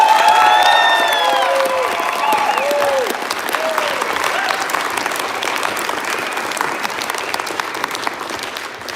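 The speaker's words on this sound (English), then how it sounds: "please give a huge round of applause for Representative Roger McGuire." Loud audience applause and cheering at the Film Prize Junior New Mexico 2022 awards ceremony: a dense crowd clapping, with whistles and whoops rising over it early, then easing slightly as the ovation continues.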